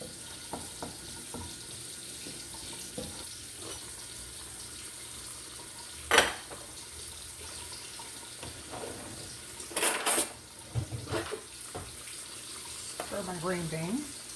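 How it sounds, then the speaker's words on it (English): Water runs from a kitchen faucet as it is turned on to heat up for cooking green beans, a faint steady flow with a few sharp clatters and splashes near the sink. "I turn my water on in my faucet"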